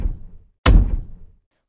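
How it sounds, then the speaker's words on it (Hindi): Heavy knocking on a main door at night comes as one loud, close thud burst after a softer dull bump, then fades into silence. "अचानक दरवाजे पर आती ये भारी दस्तक"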